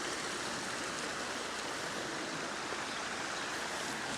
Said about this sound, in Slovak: Vodička, žbonkoce